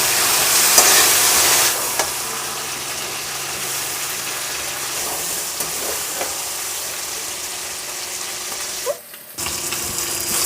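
Chicken frying and being stirred in a pan for a spiced chicken kosha with potatoes, a steady sizzle with scraping strokes and a brief tap-water burst near the end, no voices.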